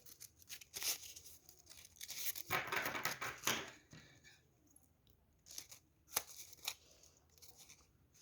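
Scissors snip through yellow and orange colored paper while crafting a paper magnolia flower, with a cluster of crisp cuts and crinkles followed by a few sparse snips, close and fairly quiet.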